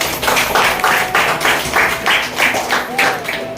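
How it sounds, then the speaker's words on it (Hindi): Applause from an audience at a business training session on invitation and closing techniques, with broad rhythmic bursts of clapping sustained throughout, fairly loud and dense, with some background voices mixed in. "Very good. मैडम के लिए जोरदार ताली हो जाए।"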